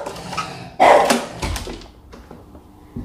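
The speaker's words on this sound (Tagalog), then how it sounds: "Ayan, tumatahol na siya." A dog barks indoors at home, a loud burst of sharp barks near the start followed by fainter yips and whimpers, with some background noise.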